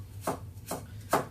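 Fresh chilli roughly chopped with a knife on a board for a Vietnamese lemongrass chicken paste: three crisp, evenly spaced blade strikes, close and clear, with quiet pauses between them.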